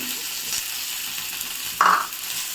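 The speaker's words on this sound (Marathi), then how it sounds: "आता जिरा सोडूया जिरा याला सोडला आता आपल्याला याच्यामध्ये हे जे लसूण आहेत ते सोडायचे" Cumin seeds and garlic frying in hot oil, giving a steady, close, loud sizzle with a brief scrape of stirring partway through and no voices.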